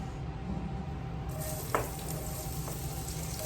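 Garlic hits hot leftover bacon grease for black beans, giving a steady close sizzle throughout with a brief louder spatter midway.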